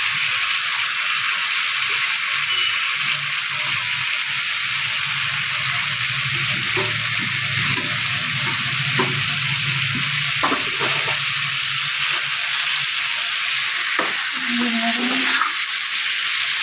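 Cauliflower, potato and flat beans are stirred through a frying spice masala, giving a steady sizzle with scraping stir strokes and a few clanks of the utensil near the end, with no talking.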